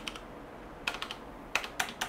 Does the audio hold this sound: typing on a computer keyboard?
yes